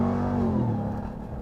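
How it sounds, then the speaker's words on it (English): The supercharged engine and exhaust of a 2021 Ram 1500 TRX pickup roar loud and close in a brief, sustained acceleration, the pitch shifting as it revs. "between the supercharger and the exhaust, the TRX sounds really special"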